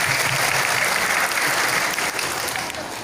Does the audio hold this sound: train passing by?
no